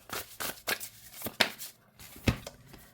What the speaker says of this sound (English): Let's go ahead and overhand shuffle.